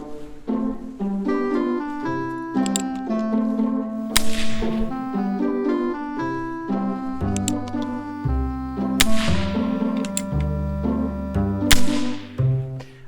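Loud sharp cracks of percussion caps fired indoors from a Kolser replica Colt Single Action Army revolver ring out several times over ongoing music, each a bright snapping report.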